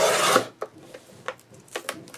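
Scissors or a trimmer cut through Stamperia Casa Granada paper while trimming pieces for a large scrapbook album: one long rasping cut at the start, then several short, quiet snips and scrapes spaced apart.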